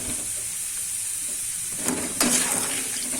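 Food deep-frying in hot oil, a steady loud sizzle with bubbling throughout, briefly intensifying as it is stirred near the end.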